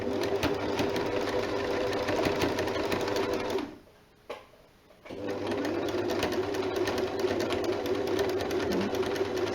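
Sewing machine stitching a jersey neckband onto a jersey top, a steady fast mechanical whir running close and continuous, briefly stopping for about a second before resuming.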